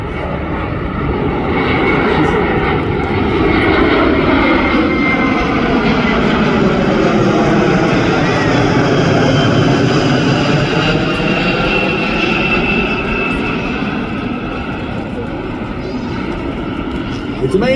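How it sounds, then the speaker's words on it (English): A Boeing KC-46 Pegasus tanker with PW4062 turbofan engines makes a loud, sustained roar during an air show flyby, swelling and then easing as it passes. An announcer's voice can be heard over the engines. "From your left, the KC-46 Pegasus."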